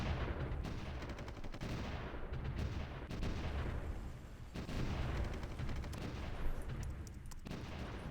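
Artillery guns in Supreme Ruler: The Great War fire in a dense, continuous barrage of overlapping booms and rattling shots at moderate volume, with no pauses.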